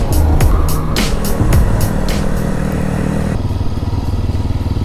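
A group of seven or eight motorcycles riding together, engines roaring loud and close in a continuous rumble with revving surges and clattering road noise.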